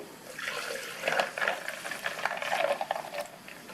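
Coconut milk pours into a blender jar holding ice cubes, a steady, close liquid splashing and gurgling with no voices.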